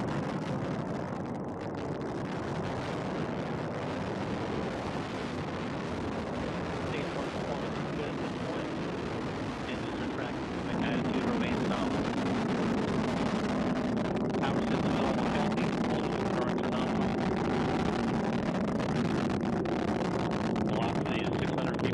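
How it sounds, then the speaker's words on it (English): Antares rocket launching the Cygnus capsule toward orbit, a steady broadband rumbling roar that grows slightly louder partway through, with a commentator's voice faintly under the noise. "And Antares is on its way, delivering Cygnus to orbit."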